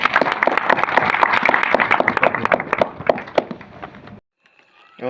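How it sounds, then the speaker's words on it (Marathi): A gathered audience claps for the event's organizers with a quick burst of distinct, crisp hand claps that stops abruptly, leaving near silence before faint sound returns. "त्या सगळ्या आयोजका मंडळाचं तुम्ही जोरदार टाळ्या वाजवा"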